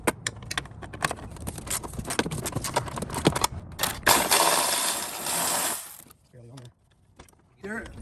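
Quarter-inch ratchet clicks away at the radiator bolts on a second-generation Toyota 4Runner during an engine swap, a run of fast metallic clicks and jangles up close, ending in a louder hissing rush and a few faint knocks.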